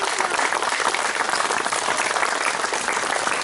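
Steady, full applause from an audience at a heritage-day performance in Guignes, France, as the actors are acknowledged, a dense wash of many hands clapping at even loudness throughout.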